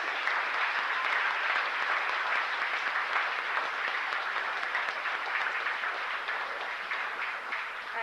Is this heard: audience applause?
yes